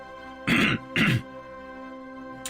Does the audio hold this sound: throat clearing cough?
yes